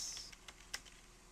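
Someone typing text on a computer keyboard, a short run of soft, sparse key clicks heard close and very quiet, with no voice.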